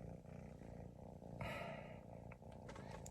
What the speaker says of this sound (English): But it's definitely purring.